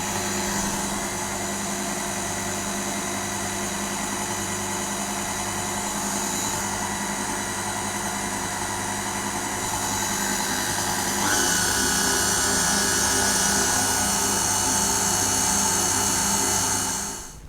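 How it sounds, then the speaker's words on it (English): Electric mixer fitted with a whisk attachment beats red velvet cake batter in a bowl, a steady close motor whir that runs unbroken for the whole stretch, its pitch rising slightly partway through, with no voices. "I'm going to change my beater attachment to my whisk attachment. So I'm now just going to beat it until it's just combined."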